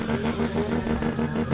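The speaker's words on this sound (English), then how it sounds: "that noise you can hear is Link's car idling away" A Nissan S14 drift car idles at Meremere Drift Park during qualifying, giving a steady, loud, continuous engine rumble with no change in pace.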